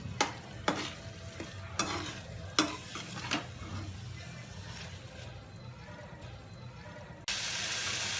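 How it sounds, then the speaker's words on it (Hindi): Green peas being fried in spiced masala for about a minute: a few sharp spoon knocks and scrapes early on over a low steady sizzle, then the frying hiss turns suddenly louder and brighter near the end. "और हल्का सा इसे मसाले में भून लूँगी 1 मिनट के लिए।"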